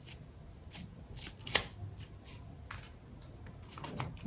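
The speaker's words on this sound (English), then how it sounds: "we're now going to go ahead and cut off this part like this" Scissors cut through a paper handkerchief pattern in quiet, close, crisp snips and rustles, arriving in an irregular run of short strokes with one sharper snap, and no talk over them.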